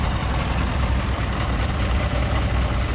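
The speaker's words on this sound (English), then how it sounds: "So yeah, just idling along nicely, warming up." A 1979 Alfa Romeo Alfetta 2.0 engine idles steadily while warming up, a continuous low, even rumble that stays close and loud for the whole stretch with no talk over it.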